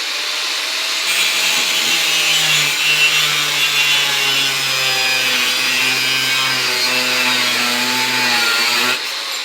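A blade waxed for cutting aluminum bites into the metal with a loud, sustained high-pitched grinding whine whose tone shifts slightly during the cut, stopping sharply at the end.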